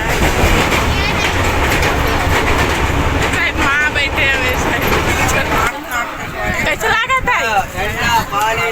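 A train at Durg railway station in India, a loud continuous rumble and rattle of rail cars with station noise and people talking throughout.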